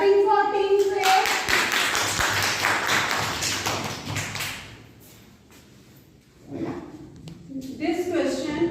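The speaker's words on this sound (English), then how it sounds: "Clapping for Team Faith." Children and audience at a school celebration event clap for a quiz team, a dense burst of clapping for about four seconds that fades, followed by children's voices talking.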